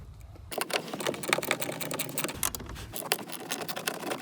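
Ratchet driving a T30 Torx bit in a socket to remove bolts on a Honda Civic airbag module, giving dense rapid clicking and metallic clatter that runs almost continuously after a brief quiet start, close and fairly loud.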